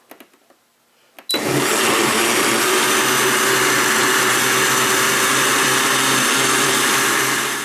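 An electric blender mixing a milkshake of milk, ice cream and sweetener: after a second of quiet it starts abruptly into a loud, steady high whirring roar that runs continuously close by, tapering slightly at the end.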